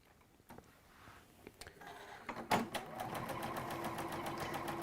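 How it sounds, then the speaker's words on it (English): A sewing machine stitches quilt pieces a quarter inch beside a marked line, starting with a few slow clicks before running into a steady, fast, faint mechanical whirr. "I'm just sewing 1/4 inch either side of that marked line on both of those."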